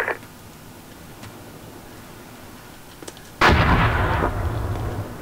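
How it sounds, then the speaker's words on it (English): A frag grenade thrown in a video game, a quiet stretch with faint ticks and a small pop, then a loud booming blast with a rumbling tail, close and sudden. "Frag out."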